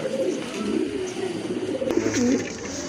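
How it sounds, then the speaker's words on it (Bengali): A pair of large pigeons cooing close by, low soft throaty coos rolling steadily through the whole stretch with no talk over them. "এই যে দেখেন খুব সুন্দর এক জোড়া কবুতর অনেক বড় সাইজের কবুতর"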